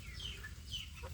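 Free-range kampung chicks of the same age cheep and cluck softly in an open pen, a few faint high chirps over low background noise.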